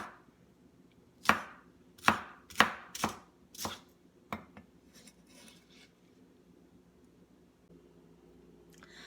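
A knife chops green onion into small pieces on a board, making about seven crisp, evenly spaced thuds close by, followed by a few fainter taps and then quiet.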